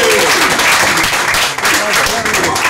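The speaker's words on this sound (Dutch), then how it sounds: "Mag ik een applaus" Loud, close audience applause at a poetry club performance evening in Rotterdam, with dense clapping and a few cheers over 2.8 seconds.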